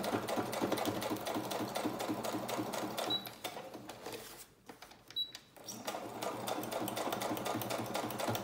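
Sewing machine stitching straight through layered paper clusters for a junk journal, a steady rapid mechanical whir close by that briefly stops and then resumes.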